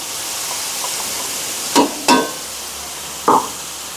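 Cooked beetroot and grated coconut are stir-fried in a pan over a steady, close sizzling hiss, with three distinct spatula scrapes and knocks against the pan.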